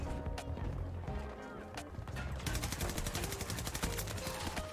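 Rapid bursts of automatic gunfire rattle through a Battlefield 2042 match, sparser shots at first, then a dense sustained volley in the second half, with a voice talking underneath.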